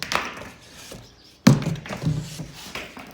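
Angled cardboard packing pieces being pulled out of a GreenWorks Pro 60V self-propelled lawnmower box, giving dull thunks and scraping rustles nearby, with one sharper knock midway.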